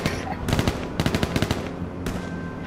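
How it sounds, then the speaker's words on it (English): Gunfire in the video game H1Z1: Battle Royale comes in three sharp bursts, the middle one a rapid string of automatic shots, loud and close against a steady game background. "I'm just trying to shoot him with a soaker."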